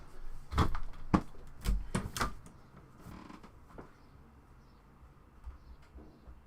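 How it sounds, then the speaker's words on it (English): A front door opening, with creaks and knocks in a few loud bursts at first, then quieter rustling and faint movement, with no talk. "someone is at the front door now"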